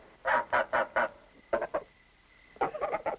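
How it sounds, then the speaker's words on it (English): A goose honks in loud, close bursts: four quick honks, a short pause, three more, then another rapid run of honks, with no talking. "This goose has fooled me for the last time"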